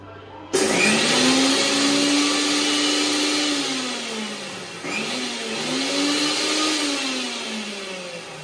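A kitchen mixer grinder whirs loudly, blending coffee and sugar in a short burst; the motor starts abruptly, holds a steady high whine, dips briefly, then spins up again.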